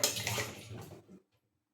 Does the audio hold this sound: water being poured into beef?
yes